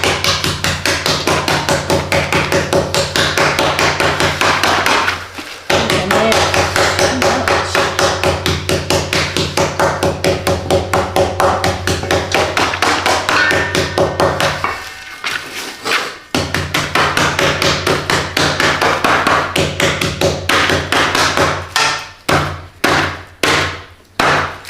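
Rapid, steady pounding of a meat hammer on a bagged surface, dense repeated blows with two brief pauses, then slower separate strikes near the end.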